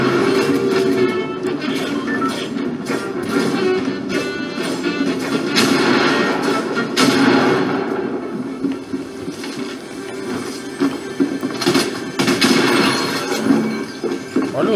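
Rapid bursts of gunfire in Fortnite, loud and sharp, repeating in clusters over a constant mechanical rumble.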